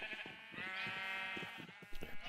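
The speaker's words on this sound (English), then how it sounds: "I created a sheep farm." A sheep bleats on a Minecraft sheep farm, a single drawn-out wavering call heard quietly and alone.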